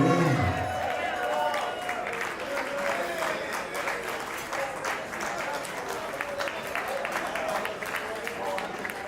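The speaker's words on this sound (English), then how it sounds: "Come on, everyone, give them a big round of applause, if you will." Wedding guests applauding the couple after a toast, loud close clapping with some cheering and background chatter, continuing steadily.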